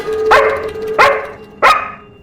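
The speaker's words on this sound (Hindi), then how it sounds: "अरे ये कुतुड़ला फिर से भौंक रहा है" A dog barks three times, close and loud, with short pauses between each sharp bark.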